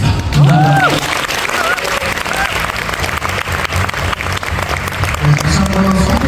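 An audience at a business meeting applauds after a presentation, dense sustained clapping throughout with a speaking voice heard over the applause.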